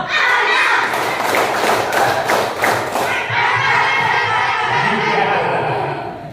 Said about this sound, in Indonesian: Tepuk enam.